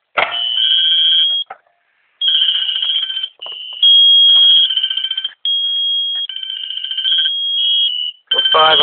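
A fire alarm sounds during a system test, blaring in long, loud, steady electronic tones, broken by a few short pauses, close and continuous.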